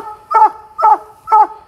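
A young coon hunting puppy, a January pup, barks three times in a steady rhythm, each bark loud and close with short gaps of quiet between them.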